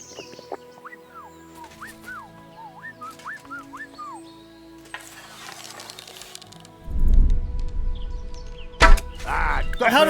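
Game sounds with chirping tones in Kingdom Come: Deliverance II, then a bow is drawn and an arrow released with a sharp thwack, followed by another loud impact.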